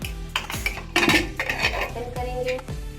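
Metal clanks and scrapes of a heavy pressure cooker lid being handled and pulled open, several sharp clinks in quick succession, close by.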